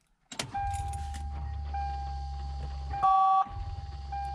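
An ignition key turns in a Lexus GS400, followed by a low electrical hum with a steady chime tone and a brief louder whine as the car's systems power up, close inside the cabin.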